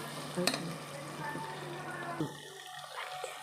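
Curry ingredients sauté in a pan with a low, steady sizzle, broken by a few light clinks and stirring scrapes; fairly quiet and close.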